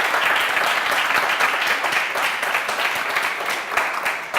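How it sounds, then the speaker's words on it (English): An audience gives a round of applause, continuous dense clapping held at a steady, fairly loud level throughout with no voices over it. "can we get a round of applause for Henry and sharing that?"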